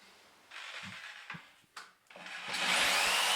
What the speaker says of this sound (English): And then I just come in with a jigsaw.